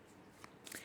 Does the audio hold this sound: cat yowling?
no